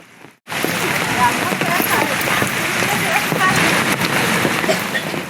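Heavy rain begins abruptly and pours steadily, a dense, loud hiss of drops drumming on surfaces close by.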